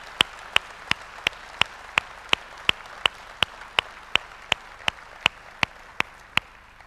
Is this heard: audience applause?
yes